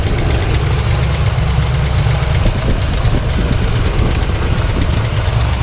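A 1975 Pontiac Firebird Formula 350 V8 idles steadily up close, with a deep low rumble and a faint knocking texture that holds constant throughout, no voices present.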